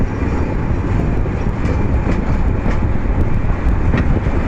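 The Chilahati Express, a Bangladesh Railway train, pulls out of Joydebpur station with a loud, continuous low rumble of wheels and carriages rolling close by.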